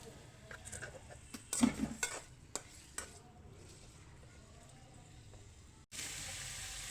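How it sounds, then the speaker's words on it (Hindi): Chicken sizzles quietly in a pan while a utensil clinks and scrapes against it a few times, followed by a steady low hiss. "अब इसको हम थोड़ा सा फ्राई कर लेंगे।"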